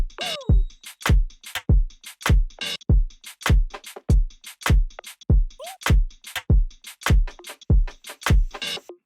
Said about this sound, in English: So now let's hear how the drums sound.